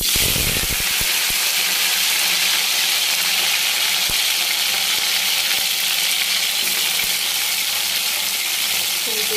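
Chopped cauliflower hitting hot oil already tempered with cumin seeds, a loud continuous sizzling hiss up close, with a few clatters of a spoon or pan at the start and scattered knocks afterward.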